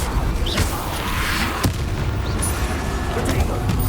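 Confringo fire spell blast in the video game Hogwarts Legacy, a booming burst over constant game ambience with a few sharp pops and crackles.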